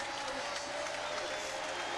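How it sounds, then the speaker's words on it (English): The Monza crowd roars and applauds after Ferrari's one-two finish at the Italian Grand Prix, a dense wash of cheering heard under a commentator's voice. "Listen to the crowd."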